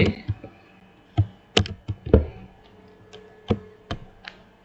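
Computer keys are pressed during copy and paste in a spreadsheet, producing crisp, close plastic clicks and taps in irregular bursts, loud and alone with no speech.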